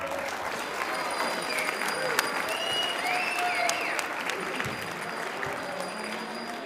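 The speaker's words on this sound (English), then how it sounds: "Please give them a round of applause." A school winter concert audience applauds with a sustained wash of dense clapping that stays steady and loud throughout, and a few faint whistles carry above it.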